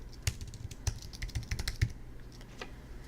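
Keys clack on a computer keyboard as a password is typed, a close, fairly quiet run of irregular taps with a few sharper strikes standing out over a low background hum.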